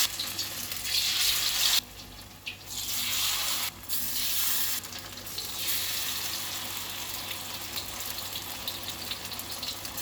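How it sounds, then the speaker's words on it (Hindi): Battered raw banana fritters fry in ghee with a steady, fairly loud broadband sizzle, broken by a few short dips and surges as pieces drop in and settle, with no talk. "केला को इस बैटर के अंदर ऐसे ही डीप करिएगा, फिर उसके बाद इसको घी में छोड़ दीजिएगा"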